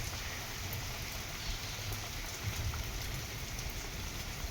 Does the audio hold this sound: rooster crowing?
no